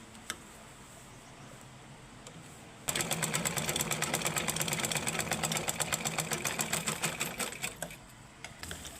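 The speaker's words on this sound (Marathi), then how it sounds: "अशी चैन उलटी ठेवून मी आता ही शिलाई मारून घेते" An electric sewing machine stitches a zipper laid face down onto fabric, its fast steady whirring run starting abruptly after a quiet opening and continuing close and loud almost to the end.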